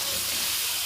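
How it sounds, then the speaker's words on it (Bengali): Tomatoes dropped into hot oil in a pan, giving a loud, steady hiss of frying that stays even for a brief moment. "এই যে টমেটোগুলো দিয়ে দিলাম, এখন টমেটোগুলো আগে একটু তেলে নিব"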